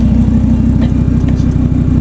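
An Audi RS3 idles with its exhaust in comfort mode and the valve closed, giving a loud, close, steady low rumble with an even pulsing beat. No voices sound over it.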